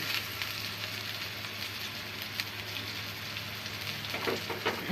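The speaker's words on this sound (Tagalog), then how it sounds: "Sibuyas, bawang. Hintay natin na mag-brown siya" Onion and garlic sautéing in a pan, a steady quiet sizzle with faint crackles and light stirring clicks near the end, close and alone.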